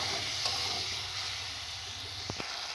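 Boiled potatoes with ground cumin and other spices fry in a pan for chana bhuna, giving a steady, close sizzle that hisses evenly throughout with no voices.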